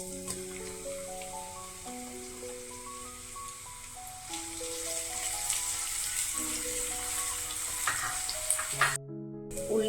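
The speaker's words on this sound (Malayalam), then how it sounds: "ഉള്ളി പെരിഞ്ചീരകം നന്നായിട്ട് മൂത്ത് വന്നിട്ടുണ്ട്." Ten small shallots, crushed fennel seeds and curry leaves fry in hot oil for a Kerala stir-fry, a continuous, even sizzle that grows slightly louder over time beneath a gentle melodic music track.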